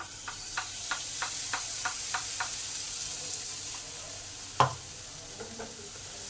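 Onion and tomato paste goes into spices frying in a pan for a fish roe kofta curry: a steady, close sizzling hiss with a row of light, evenly spaced spoon taps and one sharper knock.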